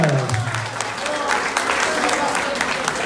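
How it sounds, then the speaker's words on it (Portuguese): A crowd claps and cheers at a carnival mask contest in Agualva de Cima. The clapping is sustained and lively, and a voice sounds briefly at the start before the applause carries on. "Salve de palmas!"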